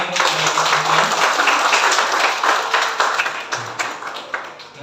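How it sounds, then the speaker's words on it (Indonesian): A church congregation applauds during a service, with dense, steady clapping from many hands that carries on for about five seconds and then thins slightly toward the end, with no voices over it. "mari kita berikan tepuk tangan."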